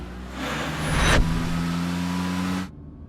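In a Hindi-dubbed action film scene, a car engine swells up from idle into a loud revving surge, then settles into a steady, close drone before cutting off abruptly into silence.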